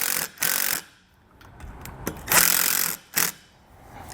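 A power tool drives small screws into a base plate while a diode wiring kit is installed on a 2021 Jeep Wrangler, giving several short, loud whirring bursts separated by quiet pauses.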